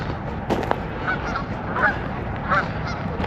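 Several big white geese honking at moderate distance in a country park, scattered calls over a steady outdoor background hum.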